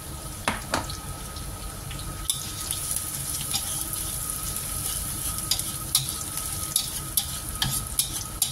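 Chicken fries in a pan with a continuous bright sizzle, broken by occasional sharp taps and scrapes of stirring, close and unaccompanied by speech.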